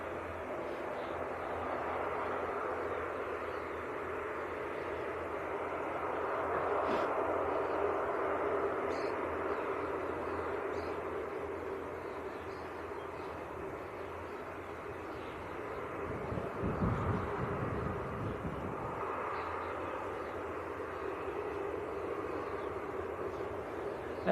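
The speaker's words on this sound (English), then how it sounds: "Aer Lingus taxiing out, going out to Dublin." An Aer Lingus airliner taxis out at Leeds Bradford Airport on a distant, steady jet engine rumble and whine. The sound swells gently and fades over the stretch, and a low thump of wind or handling comes partway through.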